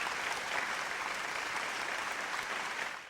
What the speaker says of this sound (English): Let's cue the applause.